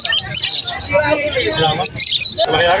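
Pet birds, including yellow-face and albino parrotlets, chirp and tweet continuously at a bird seller's stall, bright and fairly loud, mixed with nearby voices and general chatter.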